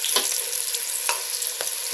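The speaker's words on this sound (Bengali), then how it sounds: "আলুগুলো উল্টে পাল্টে ভেজে নেওয়া হয়ে গেছে।" Potato pieces frying in hot oil in a pan while cooking egg biryani, with a steady close sizzle and a few soft stirring scrapes as they are turned over.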